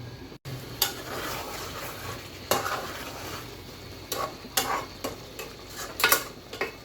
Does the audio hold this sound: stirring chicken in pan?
yes